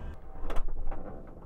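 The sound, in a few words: closing the door of a Class B RV van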